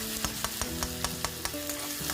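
Spices and red chili powder being fried in a pan for rayo saag (mustard greens), a soft steady sizzle with rhythmic scraping stir strokes about every quarter second, close and alone with no talking.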